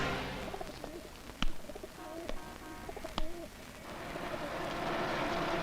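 Pigeons coo in soft, throaty, repeated calls against a hissy outdoor background, punctuated by a few sharp clicks or taps.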